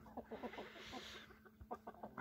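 A Gauloise hen clucks softly in a quick series of short, low calls, faint and somewhat distant against quiet background noise.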